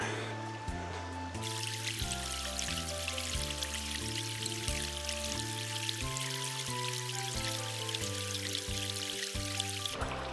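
Stream water gurgles and trickles steadily into a water bottle over a looping musical backing, the rushing hiss swelling after the first second.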